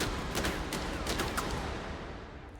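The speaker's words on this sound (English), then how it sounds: "This is the Talon, a revolver with fan-firing capabilities that can quickly dispatch opponents at close range." Rapid fan-fired shots from the Talon revolver in a video game, a dense run of sharp cracks close together, steady and fairly loud throughout with no gaps of silence.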